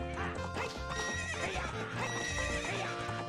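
Horse neighing and whinnying with clip-clopping hooves from the video game Ocarina of Time, repeated calls over steady galloping, close and full against layered game music.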